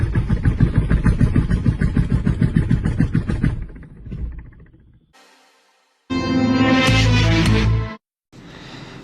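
A BMW car engine runs with a rapid rhythmic chug, fades and cuts out, then a loud steady whine and a lower hum follow.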